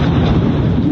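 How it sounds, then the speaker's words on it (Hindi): An Israeli fighter jet produces a loud, sustained roaring rumble, close and heavy in the low end and filling the whole second without a break. "जो वीडियो सामने आया है उसमें तेज गर्जना के साथ फाइटर जेट की आवाज सुनाई दे रही है।"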